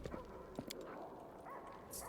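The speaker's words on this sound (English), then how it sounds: "Another rabid dog." A rabid dog in the Pathfinder video game, Through the Ashes DLC, gives a few short faint yips and barks over low background game ambience.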